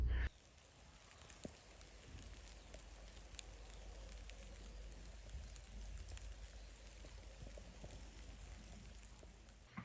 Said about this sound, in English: on and off it's absolutely hammering it down with rain